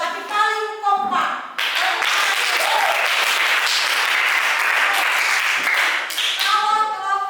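A room of students claps for a team during a classroom game tournament, a sustained wash of applause lasting several seconds, with a teacher talking just before and after.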